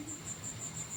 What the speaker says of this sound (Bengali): আমাদের এখানে ঝিঝি পোকার আওয়াজ